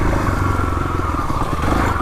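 A Kawasaki KLX351 dirt bike idling and rolling down a few stairs in a parking lot, a steady close engine rumble with faint clattering over the whole short stretch.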